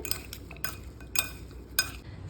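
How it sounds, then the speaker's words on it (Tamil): Metal utensil stirring sambal with jaggery in a pan, giving four distinct scraping clinks spaced about half a second apart over a low background hum. "இப்போது இது எல்லாத்தையும் நல்லா கிளறி விட்டுக்கிறேன்."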